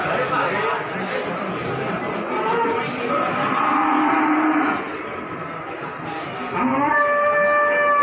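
Pegon cattle at Paing cattle market in Pati, giving long drawn-out moos, with one loud call near the end, over a murmur of people talking nearby.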